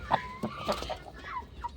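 A hen clucks several times in quick, uneven bursts, close by and fairly loud over quiet background noise.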